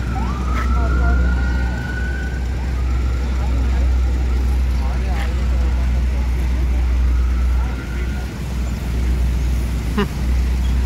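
A police siren wails in rising and falling sweeps as it chases street racers past a busy road where Eid travel buses come and go, heard over loud constant traffic rumble and engine noise, with people talking nearby.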